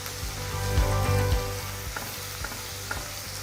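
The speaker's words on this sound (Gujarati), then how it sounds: "હવે આપણે બંને પેસ્ટને સાતળી લઈશું સારી રીતે." Garlic paste and ginger-chili paste with asafoetida sautéing in hot oil on a low flame for a Gujarati onion curry: steady close sizzling with light scraping and clinking of a stirring spoon, no talk.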